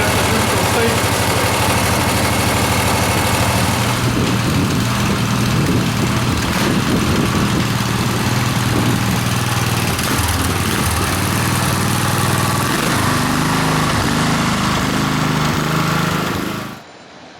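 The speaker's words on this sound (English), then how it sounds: "we have the mower up on four wheels" Riding lawn mower engine running steadily close by, a loud continuous droning hum that cuts off abruptly at the end.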